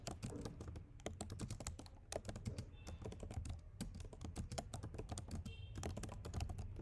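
Rapid typing of JavaScript code on a computer keyboard, with dense, close clicking keystrokes in quick irregular bursts and steady rhythm, no talking over them.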